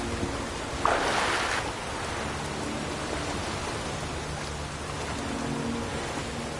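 Rain in the video game The Witcher 3, a steady soft hiss of rainfall throughout with a brief louder swell early on.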